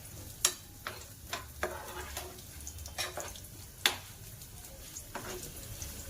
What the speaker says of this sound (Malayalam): തേങ്ങാക്കൊത്ത് കൊണ്ട് പിന്നെ ഇച്ചിരി പച്ചമുളക് ഇതൊക്കെ വറുത്ത് അതിനകത്ത് ഇടണം